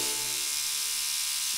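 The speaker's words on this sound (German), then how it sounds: "Das ist die Zahnbürste von deinem Vater." An electric toothbrush drones steadily and loudly in a German children's cartoon, a continuous close-up buzz running throughout with no talk over it.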